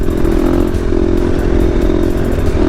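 A KTM dual-sport motorcycle held in a sixth-gear wheelie, its engine a steady, loud drone close by with a constant rumble, faint clatter and no break in the tone.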